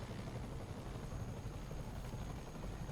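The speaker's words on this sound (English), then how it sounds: "And now we have a helicopter." A helicopter in the Spider-Man game hovers with a steady, faint rotor drone and a low rumbling wash, continuous and without a voice.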